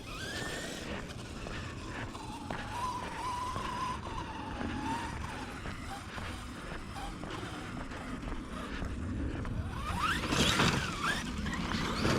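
An HPI Savage RC car races around outdoors, its motor whining and rising in pitch with throttle, tires skidding and scrabbling, building to a louder burst near the end.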